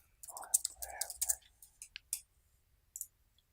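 Typing on a computer keyboard while logging into test automation software: a quick burst of soft clicks, then a few scattered single keystrokes, fairly quiet and close, with no talk.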